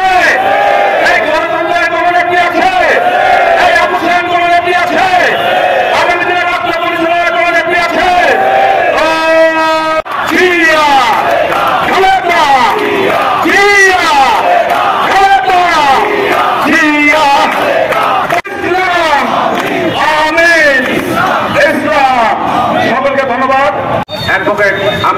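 A large crowd chants political slogans in unison at a BNP sit-in protest in Jashore, loud rhythmic shouted call-and-response phrases repeating steadily throughout, voices massed close and strong.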